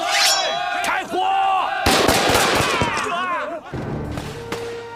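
Gunfire erupts in a kung fu movie, with dense bursts of shots mixed with shouting voices and crowd noise, loud and close, easing toward the end.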